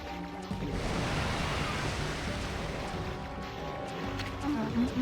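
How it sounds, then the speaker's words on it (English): Swelling ocean waves in the video game Okami HD make a steady, low, rumbling wash that holds without pause, with a faint roar beneath it. "This swelling of the waves is a sign that it's coming."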